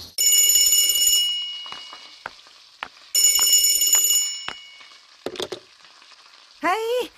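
A telephone rings in two long electronic bursts as a call is placed, with short clicks and a rising chirp between and after the rings, no voices.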